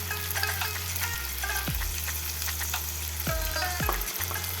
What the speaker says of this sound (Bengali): তো এবার আমি ফ্রাই করে নিচ্ছি 3 থেকে 4 মিনিট। আমার ফ্রাই করা হয়ে গেছে মটনগুলোকে। এবার আমি এর মধ্যে দিয়ে দিচ্ছি টমেটো পিউরি।